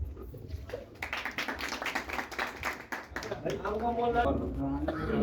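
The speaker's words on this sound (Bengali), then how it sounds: "সবাই তার জন্য একটা তালি হবে" A crowd claps for a speaker at a pigeon club tournament gathering, quick dense applause for a few seconds before a voice talks over the room.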